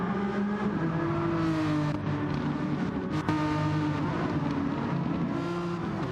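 A race car engine revs hard and steadily during a four-wheel power drift through a corner, its pitch rising and falling as it winds up through the gears, loud and continuous with no talking.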